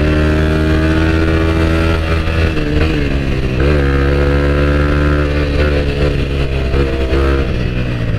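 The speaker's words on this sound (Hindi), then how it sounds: "तीनों बाइक्स के बीच में रेस लग गई है फाइनली" Three motorcycles, including a Kawasaki Ninja 300, race close by, their loud, steady engines droning, the revving tone shifting slightly as the bikes speed along together.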